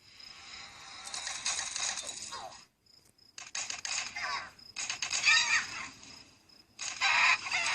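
Chickens clucking and squawking in the video game Tiny Troopers 2, several loud bursts of fowl calls broken by brief gaps, fairly close.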